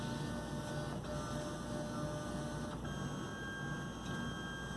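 A 3D printer steadily whirs and buzzes as its stepper motors move the print head between corners, a continuous close mechanical drone with a few brief clicks and pitch shifts.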